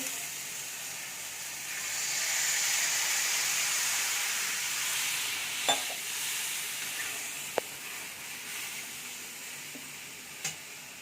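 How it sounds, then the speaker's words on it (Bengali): Water hits fried spice paste in a pan for a fish and pointed gourd curry. A loud, steady sizzle and steam hiss swells, then settles, with a few faint clinks from a utensil. "আমার মশলা কষা হয়ে গেছে, অল্প একটু জল দিয়ে দিব।"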